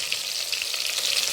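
Onion sizzling in reused hot oil while chicken gizzards are cooked, a steady close frying hiss with faint stirring, no talk.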